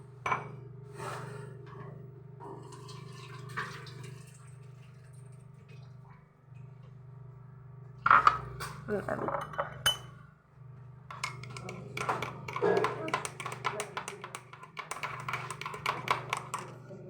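A spoon stirs iced coffee in a large mug, giving repeated light clinks and taps against the sides, close and fairly steady, busier toward the end, with a low background hum and no talking.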